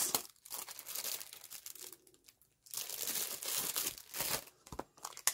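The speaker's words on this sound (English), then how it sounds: "And then you've got these envelopes, plastic envelopes." Crinkly plastic envelopes from a craft haul are handled close up in bursts of crackling and rustling, with brief pauses between handlings.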